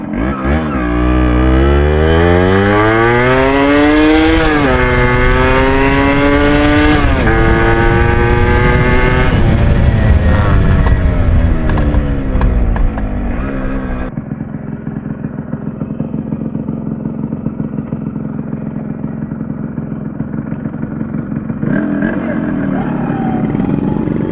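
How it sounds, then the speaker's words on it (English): A classic two-stroke motorcycle engine revs hard on a short ride, its pitch climbing and dropping through several gear changes, loud and close, before settling to a lower steady drone. "Obviously we're going to do a quick little pull on this bike, so let's go."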